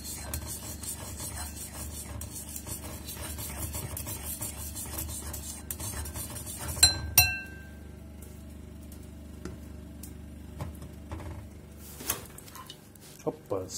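Scraping and rubbing as a utensil is worked around a bowl, with a few light clinks near the middle and sparse knocks toward the end.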